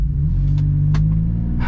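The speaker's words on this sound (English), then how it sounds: "we're gonna go ahead and floor it one last time" A 2024 Toyota 4Runner TRD Pro engine pulls hard at full throttle from a stop, a steady, loud low rumble that holds for under two seconds with no voices.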